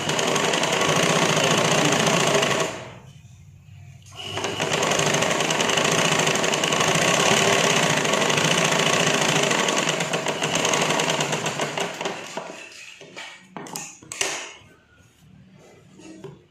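A sewing machine runs steadily while stitching tucks on a lined blouse, its continuous motor whir pausing briefly about three seconds in, then resuming before breaking into stop-start bursts near the end.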